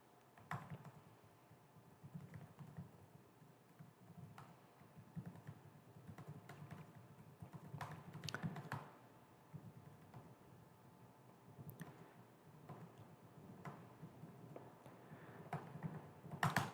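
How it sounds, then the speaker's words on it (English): Fingers type on a computer keyboard during a live stock trading session, producing a faint, steady patter of key clicks with no voices. "I got to type this out."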